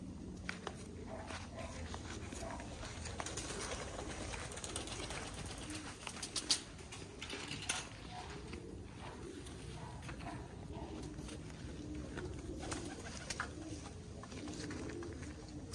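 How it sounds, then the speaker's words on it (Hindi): Cheeny Teddy pigeons coo softly in a loft with a steady background hum. Faint shuffling and occasional movement are also heard, and no one speaks. "ये चीने टैडी कबूतर है, ये देखें।"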